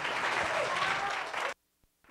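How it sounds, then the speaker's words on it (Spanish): An outdoor crowd at a fair in the Alameda gives a hearty round of applause for guest performers. Dense clapping runs loud and continuous, then cuts off abruptly into near silence. "Un gran aplauso."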